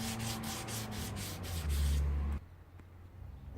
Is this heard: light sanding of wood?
yes